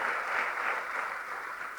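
A church congregation claps hands for the Lord during a worship service, a steady, even wash of many hands heard from the middle of the room without clear individual beats.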